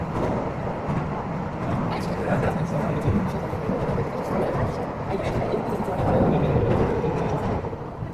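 Hungerburgbahn funicular train rolling through its 445-metre tunnel in Innsbruck, a steady, loud, enclosed rumble and roar that holds constant throughout, with no voices.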